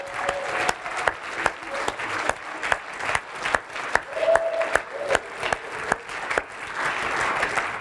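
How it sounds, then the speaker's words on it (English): Audience applause from a crowd at a live session, steady clapping with sharp individual claps standing out, lasting throughout with some cheering mixed in. "Can everyone give a round of applause for Brent and John and everyone who's kind of done this?"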